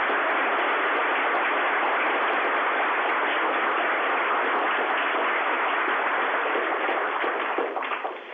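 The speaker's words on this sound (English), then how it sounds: "if we could give our astronauts a round of applause for their time" A student, staff and guest audience at a school gives astronauts a dense, sustained round of applause. The clapping sounds thin and muffled, as if over a narrow broadcast line, and tapers off at the end.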